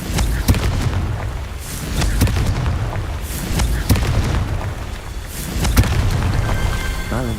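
Confringo blast spells explode in Hogwarts Legacy, a series of deep booms landing every second or two over a continuous rumbling, crackling background, loud and close, with no talk.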